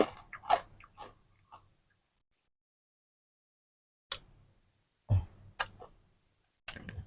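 Crunchy banana salad is chewed close to the mic in a few short bursts of crisp bites, separated by long silent pauses.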